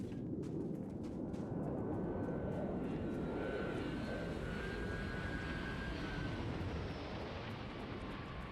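A spaceship landing in Starfield, a dense roaring engine rumble with a steady jet-like whoosh that holds loud and constant throughout, a faint rising whine threading through the middle.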